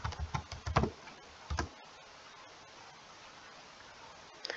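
Quick bursts of typing on a computer keyboard as a terminal command is entered on a Linux Mint system, with a cluster of close, crisp key clicks followed by a near-silent pause and one last faint tap.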